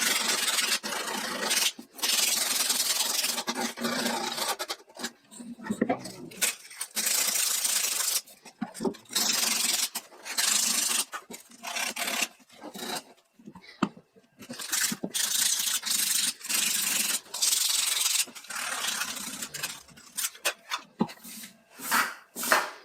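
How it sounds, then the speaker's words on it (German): Wooden edges are sanded by hand on a homemade router circle-cutting jig for a Makita RT0700, giving close, rasping back-and-forth strokes in irregular bursts with brief pauses between them. "jetzt werde ich die Kanten noch etwas umschleifen,"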